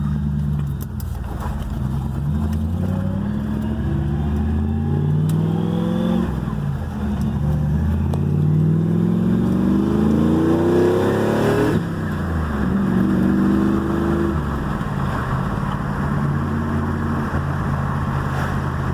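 An LS-swapped Chevrolet S10 truck engine with MSD ignition timing revs and accelerates repeatedly at just under half throttle, its deep rising drone climbing in pitch through several pulls, loud and close with steady rumble underneath.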